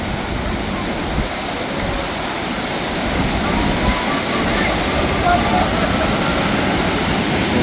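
Thirparappu Falls pours into a deep pool below, a loud, unbroken roar of falling water heard up close that stays steady throughout.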